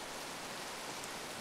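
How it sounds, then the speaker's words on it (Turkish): Steady rain falling in the bus-driving simulator OMSI 2, a dense even hiss filling the whole short stretch, moderately loud with no pauses or voices. "Oyunda yağmur yağıyor."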